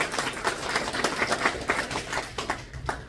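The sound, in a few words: audience applause for an event sponsor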